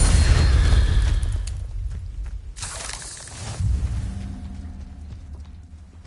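An Incendio fire spell cast in a video game, a loud burst of whooshing flame at the start that dies away, then a second shorter fiery rush midway, with rumbling low end and no speech.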